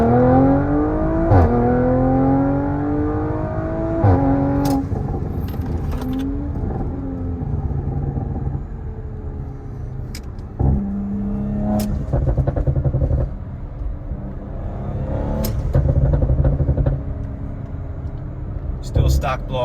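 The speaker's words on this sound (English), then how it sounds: "let's just get a quick second gear downshift" Audi RS5 with a Stage 2 transmission tune, heard from inside the cabin as the engine drops through a quick second-gear downshift. Engine tone sweeps and blips over a steady drone, with stock blow-off valves, and someone talks throughout.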